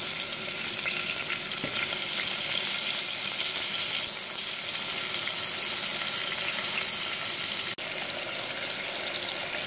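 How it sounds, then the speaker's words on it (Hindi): Steady, dense sizzling of potatoes frying in a pan, continuous and close, with a faint stir or clink near the end. "अब ये आलू हमारे फ्राई हो रहे हैं"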